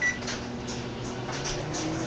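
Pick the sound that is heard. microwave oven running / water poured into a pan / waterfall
microwave oven running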